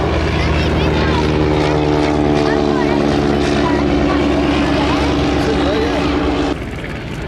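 Vintage WWI biplanes, a B2C and an Avro 504, drone steadily overhead at an air display, their engines making a loud continuous piston hum with strong tonal lines, while a commentator talks over them throughout.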